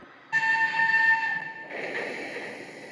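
A loud, sustained whistle from a stopping passenger train blares, then shifts to a rumbling, hissing rail noise as the train pulls away.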